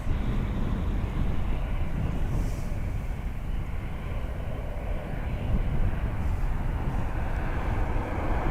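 An airliner takes off from Dublin Airport runway 10 right: a steady, broad jet roar held at a distance with faint wind noise and no talking.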